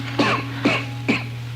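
Three hoarse coughs come in a quick, evenly spaced series, close and fairly loud over a steady low hum.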